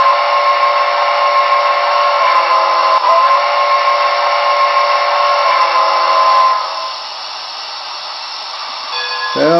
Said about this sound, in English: Horn? Sorry, whistle. It's not a diesel.